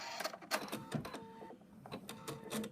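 An embroidery machine stitches out a bunny's teeth with quick, faint mechanical clicks and whirring pulses in an irregular rhythm, alone.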